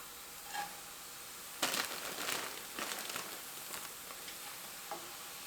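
Handfuls of shredded cabbage and carrots land in a pan with a brief crackling sizzle, a quiet rustle and a few soft taps that fade out.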